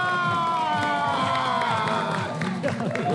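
Studio audience cheering and clapping on a Pakistani news show, a lively mix of applause, whoops and excited shouts held at moderate volume throughout.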